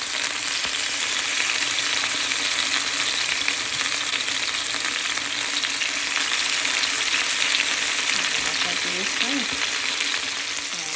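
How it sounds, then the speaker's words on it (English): Lamb chops sizzle and fry in sunflower oil in a pan, a steady, dense crackling hiss that stays loud and close for the whole stretch with occasional spatters. "we'll go ahead and just put the lamb right in."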